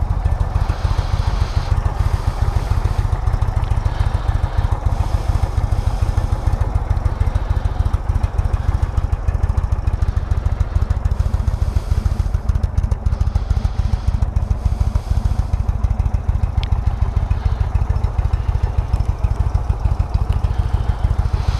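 A used 2016 Indian Roadmaster motorcycle with a 111 cubic inch engine idles close by, a loud, steady, lumpy throb with a continuous low rumble and no voices.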